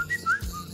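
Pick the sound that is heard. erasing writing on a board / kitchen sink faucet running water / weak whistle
weak whistle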